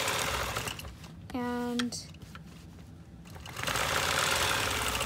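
A quilting sewing machine guided along a circular ruler runs in steady stitching bursts at close range, broken by a short rising electronic tone and brief pauses, with someone speaking quietly.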